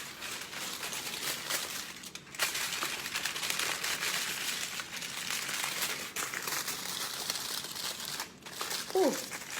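Material is crinkled and crumpled while being shaped into a curlicue, giving bursts of crisp rustling and crackling close up with brief pauses, and a faint vocal sound near the end.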